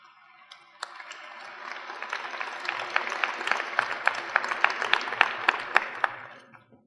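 Applause from a commencement ceremony audience, starting with a few scattered claps, then swelling into a steady round with distinct sharp individual claps standing out before tapering off at the end.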